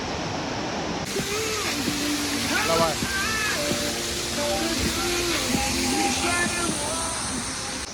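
A mountain waterfall beside the Tilicho Lake trekking trail in Manang gives a steady, full rush of falling water, with a voice and other tonal sounds mixed over it throughout.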